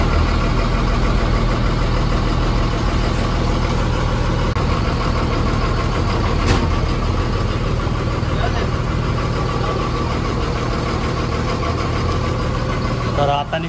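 An MSRTC state transport bus engine idles with a steady low rumble, close and loud inside the bus, before it sets off toward Jejuri, while a voice speaks over it.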